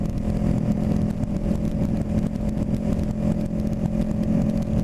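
Honda CB500 motorcycle exhaust holding a steady drone while cruising in top gear at about 60, a loud continuous engine hum with wind rumble and no change in pitch.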